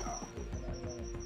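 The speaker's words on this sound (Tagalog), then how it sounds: "May mga aso brad." Dogs barking and yipping outdoors with a constant steady hum beneath, a few short repeated yelps at moderate distance, no talking.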